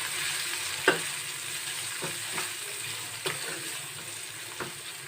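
Spices, chilli powder and kasuri methi sautéing in a pan for dhaba-style dal tadka, a steady soft sizzle with a few sharp spoon taps against the pan at irregular intervals.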